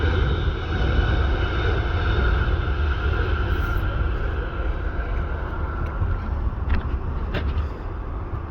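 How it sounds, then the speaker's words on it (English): A plane approaches at Sydney airport, its engine roar a broad steady rumble that holds through the whole stretch. Brief faint clicks surface near the end. "That random plane is getting closer."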